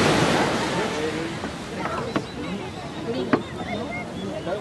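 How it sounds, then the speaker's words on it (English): Waves wash onto a beach in Mexico with steady surf and wind noise, a couple of sharp knocks breaking through near the microphone. "I'm at the beach in Mexico"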